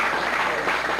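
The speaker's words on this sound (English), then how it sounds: "applause?" A studio crowd at a televised Pepsi youth bowling competition gives a short, steady burst of clapping. The dense applause is close and fairly loud throughout.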